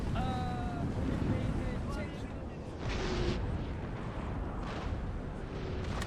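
Cannon fire from Napoleonic-era artillery in the strategy game Napoleon: Total War, dull booms in a dense rumbling battle bed with distant crackles, one louder blast in the middle, and a voice briefly audible over the din.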